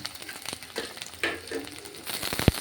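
Crushed shallots, ginger and garlic fry in a pan for a Kerala-style fish curry, with uneven crackling sizzle, scraping and a sharp knock near the end.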